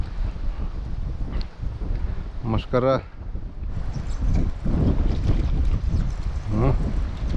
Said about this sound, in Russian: Ну, ветерок поднялся.